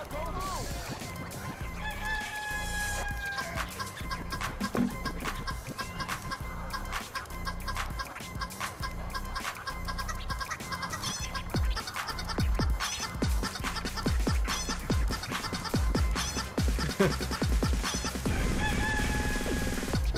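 Chickens cluck and a rooster crows amid busy crowd and stadium noise in the NFL Street football video game on GameCube, the fowl calls sounding repeatedly and fairly loud over a dense, steady background.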